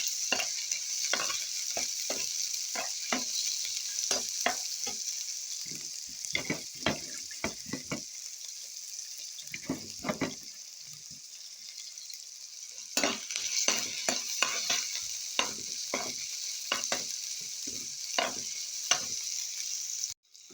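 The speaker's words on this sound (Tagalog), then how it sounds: "Now I have to saute now these fillings of samosa. This is white onion," Samosa filling with white onion sautéing in a pan, a steady sizzle with repeated scraping stirs of a spoon at an uneven rhythm, close and fairly loud throughout.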